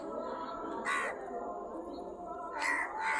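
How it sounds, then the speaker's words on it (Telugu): Crows caw a few times from a tree in the evening, two harsh bursts standing out over a background of distant bird chatter and faint hum. "సాయంత్రం పూట చెట్టు మీద కాకులు చూడండి"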